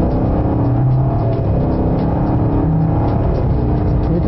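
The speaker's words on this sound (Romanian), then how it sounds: "Și cum sună motorul." A Bentley Mulsanne Speed's engine, rated at 537 horsepower, accelerating at full throttle in third gear, a loud, steady, rising roar heard close from inside the car with no talk over it.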